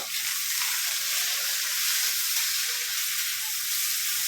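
Onion and chilli frying in hot oil, a steady bright sizzle with a constant hiss and no talking, close and even throughout.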